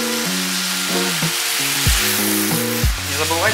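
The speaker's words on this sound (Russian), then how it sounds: "Мелко-мелко рубленый чеснок, очень вкусно. И добавляем еще, заправляем все это сверху соевым соусом." Minced garlic and soy sauce sizzle with soba noodles in a pan, giving a steady hiss of frying under a melodic, stepping tonal line.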